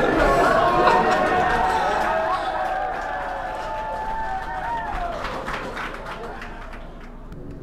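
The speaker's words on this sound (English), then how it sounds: "as you can see, they're clapping" Students cheering and clapping on senior day at a school as a dirt bike rides through the building, a busy crowd roar with scattered claps and shouts, fairly close and continuous, with chatter mixed in.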